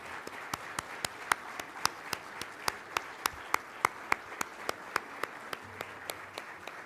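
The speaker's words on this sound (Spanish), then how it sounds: "Recibimos con un aplauso al secretario de Hacienda y Crédito Público, José Antonio Meade Curibeña." Hands clap at a convention to welcome Mexico's Secretary of Finance, a quiet, evenly paced series of sharp single claps repeating steadily from start to finish.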